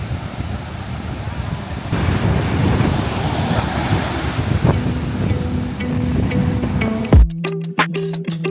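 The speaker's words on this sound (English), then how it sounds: "Stiamo andando sulla spiaggia di Silent Beach." Ocean waves wash onto a palm-lined beach in Sri Lanka with a steady roaring surf and wind buffeting the microphone, before the sound cuts to a quieter scene at the end.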